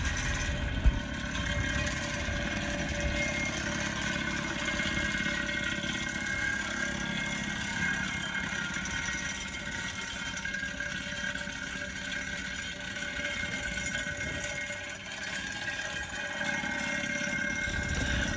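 Vibrator plate driving a steel driving rod into the ground while building a vinyl and wooden retaining wall, a steady loud mechanical drone and rattle running continuously throughout, with no talk.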